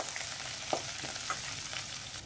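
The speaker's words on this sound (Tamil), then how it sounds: "பச்சை மிளகாய் எல்லாத்தையும் சேர்த்து நல்லா வதக்கிக்கலாம்." Green chilies with crushed ginger and garlic sautéing in a pan for a green gram gravy, giving a steady soft sizzle and fry hiss with a couple of faint stirring clicks, close and moderately quiet, no talking.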